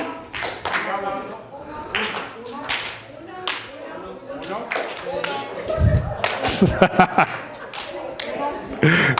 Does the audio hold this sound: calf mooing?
no